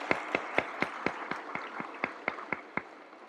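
About a dozen distinct, evenly spaced claps, fairly faint and slightly distant, ringing out for Ministry of Public Health authorities at a public accountability event, with little else underneath.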